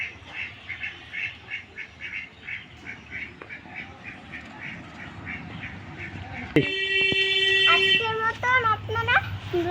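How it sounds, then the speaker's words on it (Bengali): Ducks quack in a rapid, steady run of calls while they feed, close and moderately loud. A horn-like tone with shifting pitch cuts in partway through and continues to the end. "হাঁসগুলো এখন খাবার খাচ্ছে দেখতে পাচ্ছেন"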